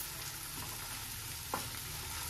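Onion, ginger and garlic fry in a pan with a soft, steady sizzle and crackle. A single light scrape or stir sounds midway, and no one speaks.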